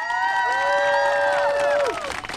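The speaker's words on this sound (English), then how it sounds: "How about a bigger round of applause for Michelle?" An audience at the unveiling of a replacement Frederick Douglass statue in Rochester cheers for Michelle. A loud, high, sustained whoop glides downward over a background of crowd noise and scattered clapping.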